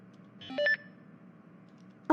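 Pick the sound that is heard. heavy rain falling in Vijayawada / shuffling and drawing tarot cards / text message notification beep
text message notification beep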